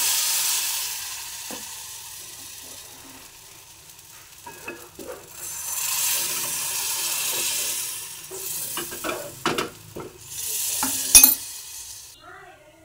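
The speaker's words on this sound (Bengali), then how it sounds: "ওই জন্য কড়ার মধ্যে করব পাটিসাপটাটা। গোলাটা দিয়ে দিচ্ছি।" Patishapta batter frying in a kadai and being stirred: a faint, swelling sizzle broken by scattered scrapes and light clinks that grow busier toward the end.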